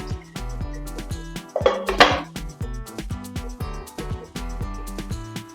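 A pot being handled and covered with a lid: a rhythmic series of sharp metallic clinks and knocks repeating at a steady pace, with a brief rustling burst in the middle, close and clear.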